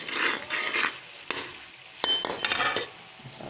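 Chana chaat with a spoonful of chaat masala is stirred and cooked in a pan, the spoon scraping and clinking in quick bursts over a light, steady sizzle, close by.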